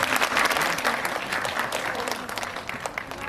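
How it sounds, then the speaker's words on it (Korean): A theatre audience at a film screening talk breaks into dense, continuous applause, many hands clapping together at steady loudness with no voices on top. "큰 박수 부탁드립니다."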